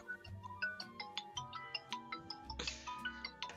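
A phone ringtone plays a bright, repeating electronic melody of plucked, chiming notes in a steady rhythm, clear and alone with no talk over it.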